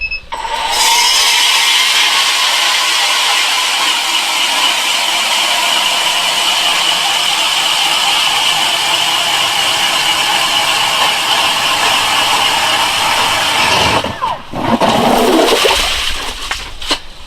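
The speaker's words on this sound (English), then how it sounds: "So this is going to be the first hole drilled with it." A StrikeMaster Lithium 40V electric ice auger bores its first hole through lake ice, a loud, steady whirring grind that runs unbroken for about fourteen seconds, then breaks through with a brief rushing, sloshing burst as it clears.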